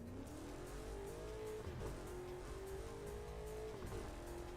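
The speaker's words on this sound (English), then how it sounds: "When you're driving a stunt car like this one" A stunt car in the Burnout Paradise racing game drives steadily with a continuous engine drone, pitch rising and dipping through gear shifts and revs, tires hissing underneath, heard alone at a fairly low level.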